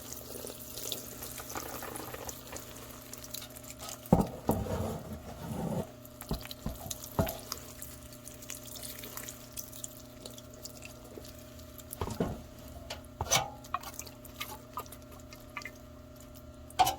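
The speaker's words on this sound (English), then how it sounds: "So I'm just going to water this down a bit." Water poured onto a worm bin gives quiet, intermittent trickles and patters, with a few louder splashing bursts close by and no talking.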